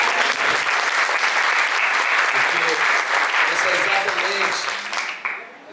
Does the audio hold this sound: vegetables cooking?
no